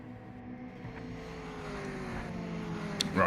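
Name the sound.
Mazda MX-5 race car engine in Project Motor Racing video game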